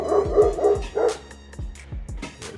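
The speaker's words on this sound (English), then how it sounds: "Damn dog barking." A dog barks near a home garage paint booth: a run of about eight loud, yappy barks in quick, uneven rhythm, close by, with no talking.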